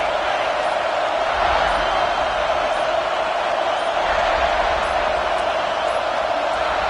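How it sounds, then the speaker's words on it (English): A dense, constant roar from a large stadium crowd at an NCAA college football game, loud and unbroken throughout, with slight surges. "This crowd trying to make life miserable for this offense."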